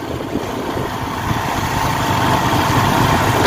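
Motorbike engine running steadily during a ride through a long market bazaar in Utraula, a low continuous drone with a faint rise in loudness, set against broad street noise.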